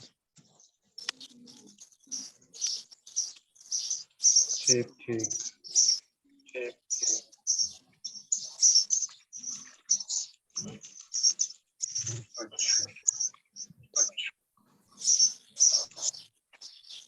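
Small birds chirp and tweet repeatedly in the surroundings, with a pigeon-like coo now and then, during an online chemistry class while people talk over them.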